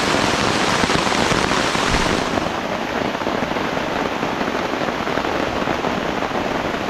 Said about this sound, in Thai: ฝนก็ตกลงมาอีกแล้วนะครับผมเพิ่งดื่มกาแฟนะครับ